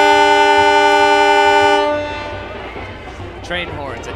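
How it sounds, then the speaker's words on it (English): A loud train horn blown by fans in the stands at a high school football game, one long sustained blast that cuts off, followed by crowd noise and a short higher squeal. "Train horns, a necessary addition."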